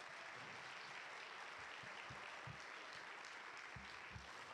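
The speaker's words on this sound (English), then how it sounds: "Let's give them another round of applause." An audience applauds the CBA Jazz Ensemble at a winter school concert, a dense, even wash of many hands clapping throughout, heard at a distance, with a few low thumps underneath.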